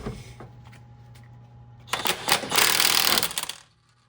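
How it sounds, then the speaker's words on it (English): A DeWalt impact wrench on its bolt setting rattles loudly in a fast burst of roughly one and a half seconds, loosening the crank pulley bolt on a 2007 Honda Civic, then stops abruptly, preceded by quieter handling noise. "So now what I'm going to do is go to the DeWalt, and I have this on the bolt setting."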